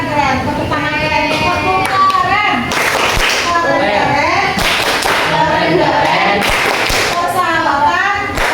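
Students clap in a classroom, bursts of applause rising and fading in waves over steady chatter and children's voices throughout.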